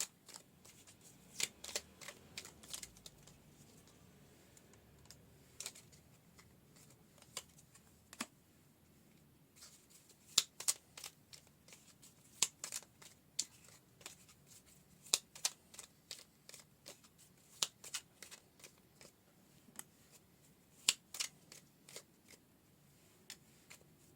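Tarot cards being shuffled by hand, a long quiet stretch of crisp riffling flicks and snaps in irregular bursts, close and faint with no speech.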